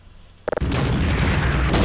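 Artillery shell explosion in Half-Life: Opposing Force: a quick cluster of sharp pops, then a loud sustained rumbling roar close by.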